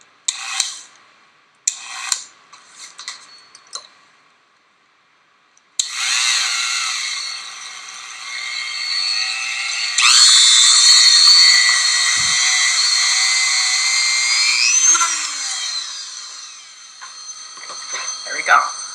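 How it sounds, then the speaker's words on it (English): Gyroscope flywheel with a spiral marking spinning up toward about 3000 RPM, a bright high whine that starts abruptly, climbs in pitch and holds steadily, with a few short mechanical clicks before and after. "Now the gyroscope is spinning about 3000 RPM in this axis"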